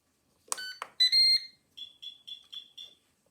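An air fryer beeps as it is set to bake: a few sharp electronic tones followed by a quick series of six shorter beeps, close and clear with no talk.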